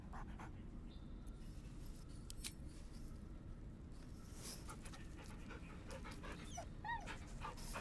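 Scratch, a dog in the video game Baldur's Gate 3, pants in quick, steady breaths, joined by a few small whimpers and scratchy noises over a constant low background.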